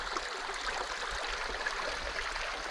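A clear Carpathian mountain stream flows with a steady, soft burble and rush of water, continuous and fairly close, with no talking over it.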